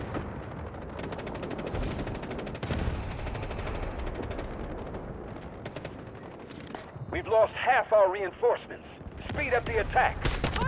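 Sniper rifle fire from an R93 in the shooter game Delta Force, with a few sharp, loud gunshot bursts and other gunfire amid game sounds and effects, some swooping tones later on.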